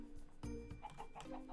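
Chickens in the Minecraft video game cluck in short, soft repeated calls over a faint steady background hum, with a few quick thuds in between.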